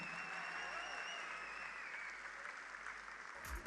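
Very quiet, continuous applause from a conference audience welcoming a company founder and chairman on stage, a soft even patter heard from a distance, with a faint tonal hum running beneath it.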